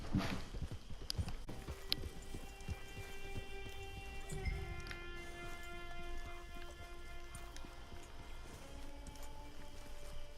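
Steady clip-clop of horse hooves at a walking pace in the video game Red Dead Online, set against a constant ambient bed with a low sustained musical drone.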